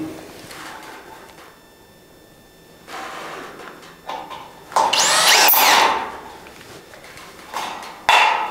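A power screwdriver drives screws into a metal drywall profile on a ceiling, with several short whirring bursts between pauses and handling knocks, and the loudest burst comes near the middle.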